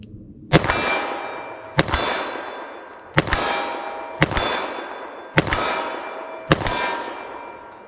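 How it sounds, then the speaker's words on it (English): Six 10mm pistol bullets strike a steel target at 25 yards, each hit a sharp ringing clang that decays over about a second, spaced at roughly one-second intervals, with the gunshots themselves faint or absent. "See how fast I can hit the target from 25 yards."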